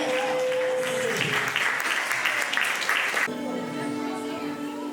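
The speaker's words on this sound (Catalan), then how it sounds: "Aplaudiment" A theatre audience applauds at a performance of the play La Carlota, sustained clapping under voices and music, then cutting off abruptly to quieter sound with a steady tone.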